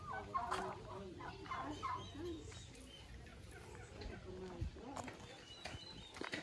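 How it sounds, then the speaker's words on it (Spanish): Hens cluck and gobble-like calls come from a backyard flock, close and intermittent, with soft footsteps and rustling around them. "Mis gallinas, miren."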